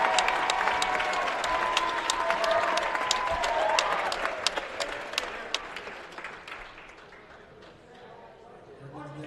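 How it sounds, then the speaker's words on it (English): Applause and crowd noise fill a high school basketball gym as seniors and their parents are honored at a Conneaut Spartans vs Perry Pirates game, strong at first and then thinning toward the end, with some voices mixed in. "Let's have one last round of applause for these 2024 seniors and their parents and guardians."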